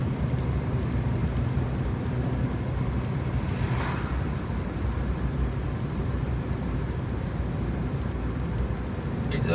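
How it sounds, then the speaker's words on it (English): Light road traffic on a rainy, windy day, a steady broadband roar of tyres and engines with one vehicle swelling past midway, fairly close and continuous without talk. "There's a bit of traffic on here, but not a lot."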